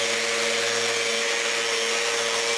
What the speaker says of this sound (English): This means that I can do the final sanding inside the bin.